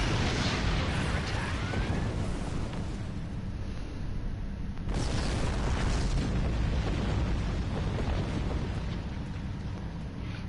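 Weapons fire destroying a sphere in the space game Star Trek Online, a continuous dense roar of blasts and booms that stays loud throughout, with a brief break near the middle and talk mixed in.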